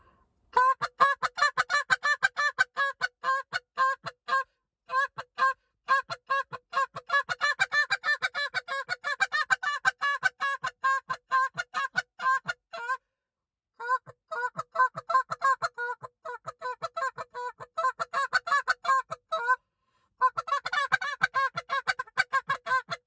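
A handheld Canada goose call blown in a hunting sequence gives rapid honks and clucks in quick rhythmic bursts, loud and close, broken by a few brief pauses with no talking.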